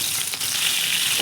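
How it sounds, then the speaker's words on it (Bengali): Marinated fish pieces hit hot oil with a loud, dense, continuous sizzle that stays close and steady, with no voices. "ওই গরম তেলের মধ্যে ম্যারিনেট করে রাখা মাছের পিসগুলো একটা একটা করে দিয়ে"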